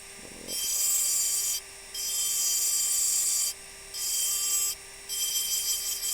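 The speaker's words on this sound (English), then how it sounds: "I'm going to use smaller burrs on that top bit there." A rotary engraving burr grinds on a crystal glass tankard, whining high and thin in four bursts of a second or so each, separated by short pauses over a steady motor hum.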